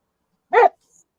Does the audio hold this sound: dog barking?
yes